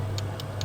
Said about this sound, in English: a kitchen timer ticking,